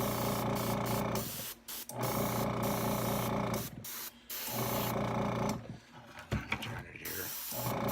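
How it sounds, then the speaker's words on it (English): A spray gun applies paint to a model dragster in repeated hissing bursts with short pauses between them, close and fairly steady. "You got a good spray there."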